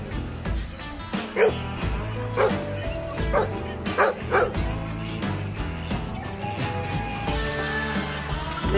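A small dog yips and barks in short bursts over steady background music, with a few sharper yelps standing out midway.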